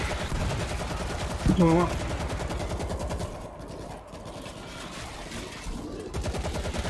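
Rapid gunfire from shooting zombies in the World War Z video game, continuous bursts of shots throughout, with players talking over the shooting.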